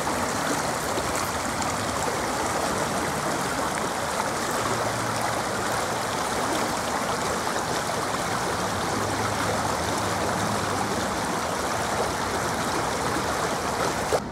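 Darnytsia river stream flowing steadily, a continuous broadband rush and trickle of water close by that holds an even level for the whole stretch, with no voices over it.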